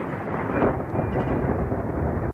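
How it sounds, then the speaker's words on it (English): Thunder snow in Arizona: a long rolling thunder rumble during a winter snowstorm, loud and continuous, low and heavy, with no speech. "a rarely seen or heard winter weather phenomenon, thunder snow"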